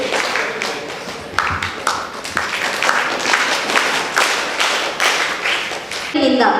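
A crowd claps to honour guests at the installation ceremony of a federation of self-help groups in Konaje, with dense, uneven hand claps and occasional louder taps carrying on for several seconds before fading at the end.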